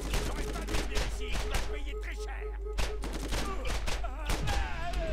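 Borderlands video game combat, with dense bursts of rapid gunshots and pistol fire over a continuous low rumble and music, plus a few voice sounds mixed in.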